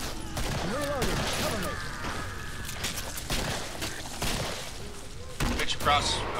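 Gunfire in the game Killing Floor: repeated sharp shots and bursts, some in quick volleys, mixed with game effects while players talk over the action.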